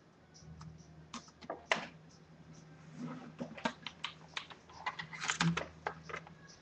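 Fingers tap out a password on a computer keyboard, a quick, uneven run of light clicks and clacks close by. The bursts speed up toward the end over a faint background hum.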